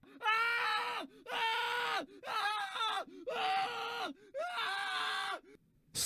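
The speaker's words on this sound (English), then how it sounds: "But you're going to scream like this." A voice actor lets out five drawn-out, strained screams in a row, each about a second long with short breaths between, recorded close and alone.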